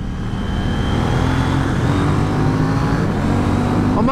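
A KTM Duke 790 motorcycle engine pulls hard under acceleration, a loud, close, steady rising drone with faint tonal lines sweeping upward, heard alone without talk.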